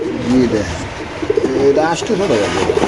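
Soft, repeated cooing of caged pigeons close by at a pigeon sale, a few low rolling calls mixed with people talking.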